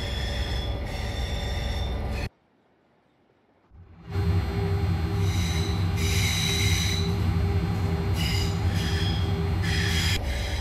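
An oil tanker train crawls slowly past, its wheels squealing in loud, sustained high-pitched screeches over steady rumbling, with a brief drop to near silence partway before the grinding squeal returns at full volume.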